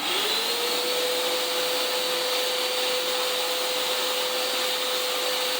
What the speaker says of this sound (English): And then I immediately began to vacuum.